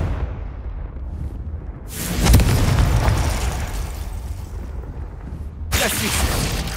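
Confringo fire spell explosions in the Hogwarts Legacy video game: a loud burst near two seconds followed by a long rumbling roar, then a second blast near 5.7 seconds, both close and heavy.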